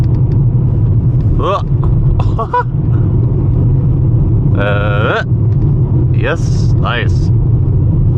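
A VW Golf 5 rolls over a bumpy rural road toward Ireland's westernmost point, a loud continuous cabin rumble with jolts, while a voice speaks briefly and something tonal chirps above the drone.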